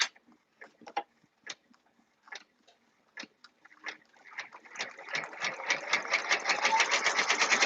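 Sewing machine stitching an embroidered appliqué for a unicorn shirt, starting with slow, separate needle strokes that speed up into a steady, close, rapid mechanical chatter.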